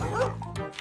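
A cartoon dog gives a short, close bark with a whimpering yip, about a second long and fairly loud.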